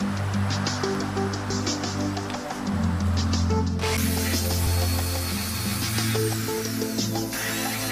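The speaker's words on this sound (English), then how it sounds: "Grind it on back into a V-shape." A power grinder cutting a crack in fiberglass into a V-shape, a steady whining and rasping hum with tonal motor drones that shift in pitch partway through, continuous and fairly loud with no talking.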